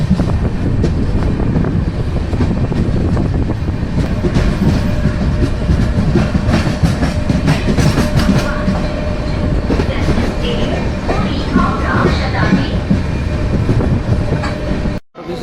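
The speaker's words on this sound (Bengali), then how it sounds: "আমাদের ট্রেন কটক ঢুকছে।" Puri Howrah Shatabdi Express (12278) rolling into Cuttack station, heard from inside an AC chair car: steady loud rumble and clickety-clack of wheels on rails with wind noise, continuous throughout before a sudden cutoff.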